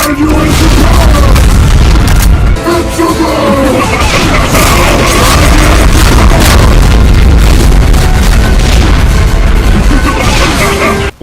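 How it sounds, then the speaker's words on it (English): A Doom mod Mastermind demon fires a spread BFG 10K attack, a loud, dense barrage of booming blasts and bursts that run without a break, with shouted taunting voices in the game mixed in. "A spread BFG 10K attack"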